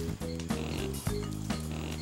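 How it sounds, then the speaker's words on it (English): Low, pig-like grunting calls from ground lemurs repeat in short bursts, several overlapping, fairly close and steady over a soft background. "Those sound like pigs, right? But they're not. Those are ground lemurs."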